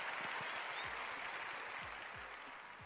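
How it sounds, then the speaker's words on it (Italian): Applause from stadium stands during an Italian broadcast, a steady distant wash of clapping that fades slightly toward the end, with no talk over it. "Grazie dell'applauso scrosciante dalle tribune."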